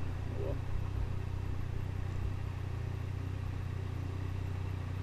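A car rolling over gravel, with a steady engine drone and low rumble of tires crunching loosely underneath, continuous and close from the cabin.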